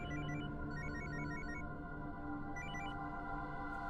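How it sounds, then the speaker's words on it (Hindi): A telephone rings on an outgoing call as a repeating electronic melody of short, bright beeping notes, played in two bursts over a steady background hum, with no one speaking. "ए विजय कुमार को फोन लगा।"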